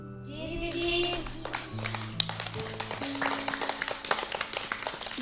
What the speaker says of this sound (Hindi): तो उससे पहले हम अंजना दीदी को तालियों के साथ अलविदा कहें।